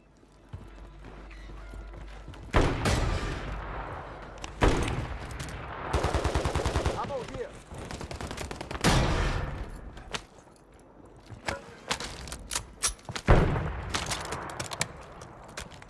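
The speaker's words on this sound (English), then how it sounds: "Taking fire!" Bursts of gunfire from Call of Duty: Warzone, with rapid automatic volleys and sharp single shots in clusters, alternating with quieter gaps.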